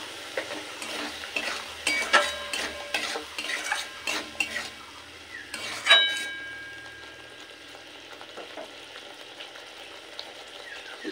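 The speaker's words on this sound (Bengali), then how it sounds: "শুকনো মশলার সাথে বাটা মশলা খুব ভালোভাবে মিশিয়ে নিয়ে সামান্য অল্প জল দিয়ে মশলাটা খুব ভালোভাবে কষিয়ে নেব" Spice paste, ground and dry spices with a splash of water, stirred and frying in a pan, with repeated scraping strokes of a utensil against the metal, a soft sizzle and a few clinks, close and alone.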